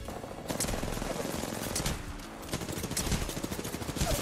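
Shotgun blasts in a video game firefight overlap with dense rapid fire, a constant loud barrage of shots with no clear pause between them.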